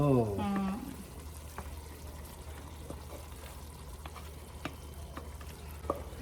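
Food being stirred and mixed in a pan with a spoon: soft, quiet scraping and occasional light clicks over a low steady background hum, with a brief tonal sound at the very start.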